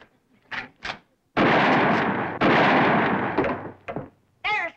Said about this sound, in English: It took you 2 shots to get that wire.